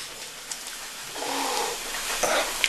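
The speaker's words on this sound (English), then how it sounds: "And that's the cat" A cat gives a short, drawn-out meow or whine, fairly faint against a quiet indoor background with light rustling.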